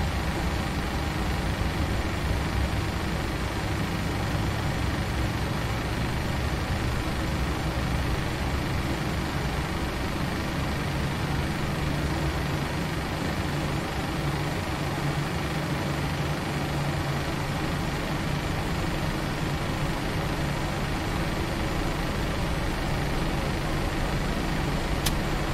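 Boeing 737 jet engine idling after start, a steady broadband hum and whine that holds constant and close throughout, with no speech over it.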